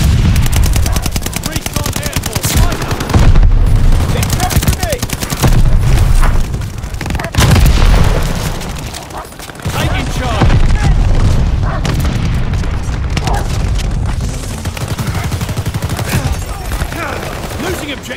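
Dense Call of Duty: Vanguard battle gunfire, with bursts of rifle and machine-gun fire and booming grenade explosions that are loud and close. The shots and blasts run continuously through the whole stretch, with game callouts mixed in.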